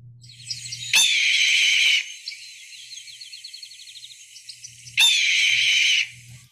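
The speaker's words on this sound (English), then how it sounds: "the red-tailed hawk, I'm sure you'll recognize this if you've watched any movies that are set in the West or in the desert" Two loud, harsh, descending screeches of a red-tailed hawk ring out about four seconds apart, each lasting around a second, with quieter chirping and insect-like trills between them.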